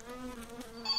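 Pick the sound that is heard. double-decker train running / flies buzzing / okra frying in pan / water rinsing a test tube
flies buzzing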